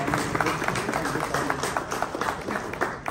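Clapping from the audience at an India-Israel business forum, a brief burst of moderate applause in a hall with individual claps distinct, continuing steadily throughout.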